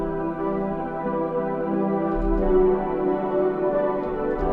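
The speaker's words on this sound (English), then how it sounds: "So for my third instrument, I'm gonna add these Jupiter orbit strings," Jupiter Orbit synth strings play a smooth, sustained melody in a gentle chord-and-beat arrangement: a warm, even pad of layered tones that holds steady at moderate volume throughout, with no talking.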